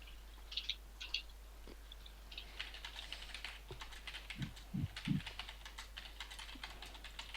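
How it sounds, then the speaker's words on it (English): Steady computer keyboard typing with irregular clicks throughout, fairly quiet, with a few soft low thumps partway through. "I can hear a lot of typing."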